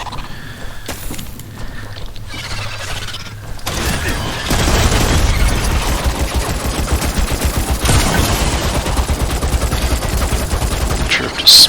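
Rapid automatic gunfire from Earl's weapon in the game Crucible crackles in fast bursts from around the fourth second onward, mixed with mechanical clanks and game effects, loud and continuous.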